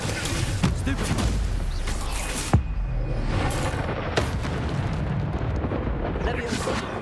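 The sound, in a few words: Stupefy spell cast in the video game Hogwarts Legacy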